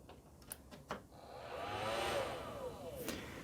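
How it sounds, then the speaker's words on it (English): A Flex 160-watt battery charger spins up its cooling fan on plug-in, a steady close airy whoosh that swells and holds after a few faint clicks. "So when you first plug it in, you get this burst through that fan."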